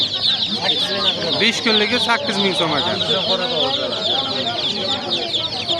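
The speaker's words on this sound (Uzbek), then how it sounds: "Qora jo'ja ekan bu." Young black chicks peep in a dense, high, continuous chorus at a bustling poultry market in Navoi, with clucking fowl mixed in and someone talking over them.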